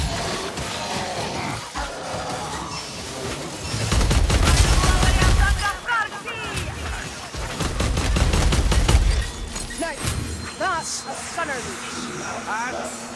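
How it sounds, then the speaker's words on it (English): A Skaven warpfire thrower sprays fire in the game Vermintide 2, a loud roaring gush under bursts of gunfire, combat noise and voiced character lines. "I hear the warp fire flow out"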